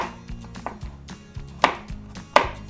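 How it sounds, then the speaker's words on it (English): A chef's knife rough-chops five garlic cloves on a board, landing as loud, close, uneven thuds with a few sharper knocks and no talking. "I'm going to give them a rough chop with just this chef's knife"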